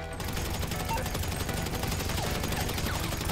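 Rapid bursts of gunfire from GTA Online fill the whole stretch at steady volume, a dense fusillade of shots rattling with no talk over it.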